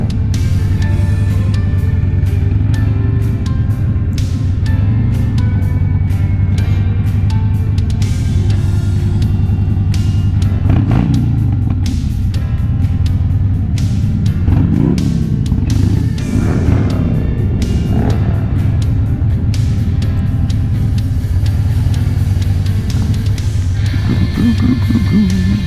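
Cars and trucks roll past in a birthday parade, their engines rumbling and roaring loudly and continuously, with revving swells and a steady drone as the group of vehicles passes close by.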